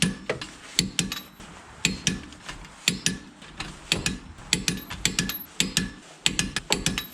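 Torque wrench tightening wheel lug nuts to about 80 foot-pounds on a 1997-2005 Lexus GS/IS, a steady series of close ratcheting clicks in rhythmic pulls, with sharp metallic snaps between them.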